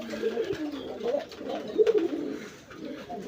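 Domestic deshi pigeons cooing close by in a loft, soft throaty rolling coos repeating in short phrases with a faint background hum.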